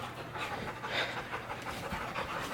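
A puppy panting close up, quick rhythmic breaths in a rapid unbroken series, fairly soft with no talking.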